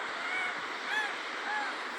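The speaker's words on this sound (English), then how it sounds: "the seagulls prefer this ramp. They're very vocal," Seagulls calling from a ramp where they perch, a few faint, distant squawking cries rising over a soft background hiss, with no talking.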